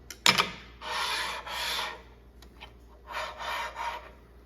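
A number 3 miter gauge on a restored Oliver 182-DB disc and belt sander slides along the table slot, making several close scraping metal-on-metal rasps in separate strokes with a brief clatter at the start.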